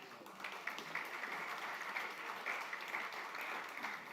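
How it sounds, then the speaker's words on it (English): Sustained applause from a sizable audience at a golf classic and summer party, a dense, even patter of many hands clapping at moderate distance for several seconds. "Please, a round of applause."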